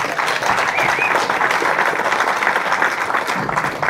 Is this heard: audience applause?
yes